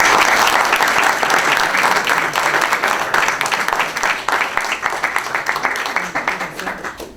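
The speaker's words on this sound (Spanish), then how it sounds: "Un aplauso, por favor." Audience applause that starts dense and loud, then thins into scattered individual claps as it fades over several seconds.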